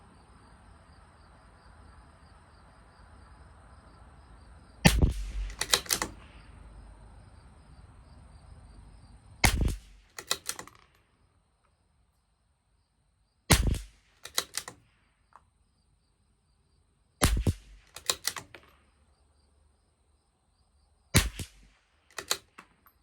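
Sharp, loud rifle shots from a CZ 457 LRP with an IBI barrel firing Lapua Long Range ammunition at a 50-yard target, about five widely spaced reports, each sometimes doubled by a quick echo, with quiet between.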